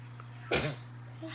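One sudden, sharp sneeze close to the microphone, over a steady low electrical hum.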